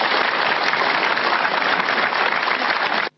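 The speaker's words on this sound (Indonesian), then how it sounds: "Tepuk tangan dulu dong buat semuanya." A crowd gives steady, dense applause, a continuous wash of clapping at even loudness that cuts off abruptly at the end.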